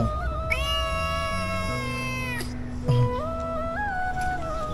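Several cats meow repeatedly for food, their calls close and clear, some long and wavering and others short, with household voices faintly behind.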